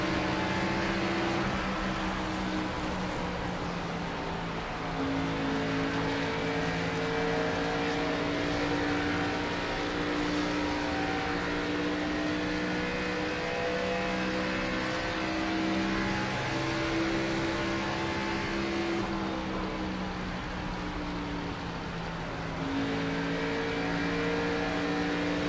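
Race car engine in the NASCAR 25 video game, a steady sustained drone with layered harmonic whine holding nearly constant throughout, alone without talk.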